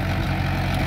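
A Mahindra Sarpanch 475 DI tractor engine chugs close and loud in a short burst, with a deep, steady diesel rumble.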